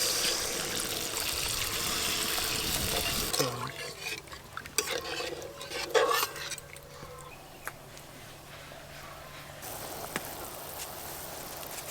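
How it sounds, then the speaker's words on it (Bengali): Water gushing into a pot of fried spices, then steady stirring and scraping with a spoon; close, moderately loud pouring gives way to softer clinks and sloshing. "এবার জল দেব।"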